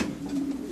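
A racing pigeon cooing, a short low steady coo heard close and alone against faint background.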